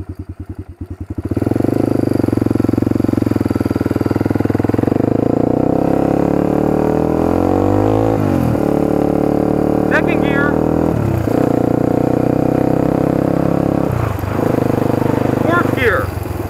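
A quad bike with a manual clutch starting off in first gear, its engine a loud, close, continuous drone whose pitch climbs and then steps with each rev change, running steadily throughout.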